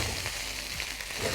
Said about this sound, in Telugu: అన్ని వేసుకొని కలుపుకోవాలి, చక్కగా వేయించుకోవాలి కొబ్బరి నూనెలో